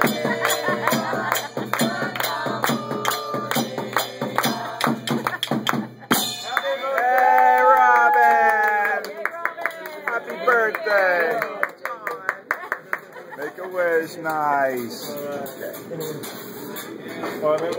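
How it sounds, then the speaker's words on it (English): Group of people clapping along to a sung happy birthday song at a steakhouse, rhythmic claps under singing voices and chatter, loud and close, with livelier cheering in the second half. "Just clap your hand together with us."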